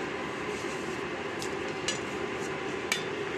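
A cooking pot of bhog khichuri being stirred as it boils, with a few faint metallic scrapes and clinks of a spoon against the pot over a low steady background hiss.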